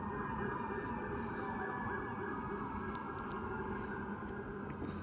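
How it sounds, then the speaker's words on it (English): Emergency vehicle sirens wail very far off, a faint steady drone buried under a constant low rumble of city background noise with no voices. "I still hear sirens. Very far away sirens."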